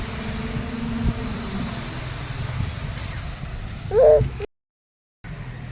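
A truck rumbles steadily while unloading river sand from the Purna river, with a brief hiss near the end before the sound cuts out.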